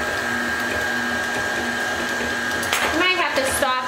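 A stand mixer's beater paddle creams ingredients in a bowl with a steady mechanical whir, growing rougher and louder near the end.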